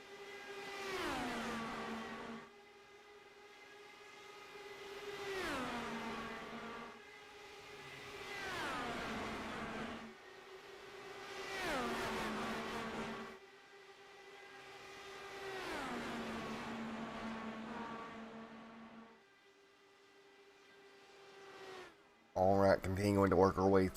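IndyCar race cars circling Indianapolis roar past one after another, each engine note rising and then dropping in pitch as the car sweeps by, at regular intervals of a few seconds.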